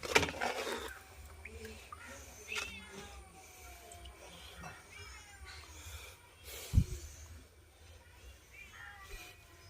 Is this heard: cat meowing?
yes